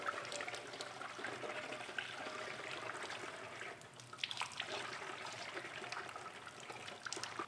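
Liquid poured through layers of wet cheesecloth and a household strainer into a large funnel, a steady splashing trickle of running liquid, close and fairly quiet, with no voices.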